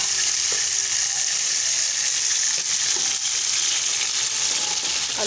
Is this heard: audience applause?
no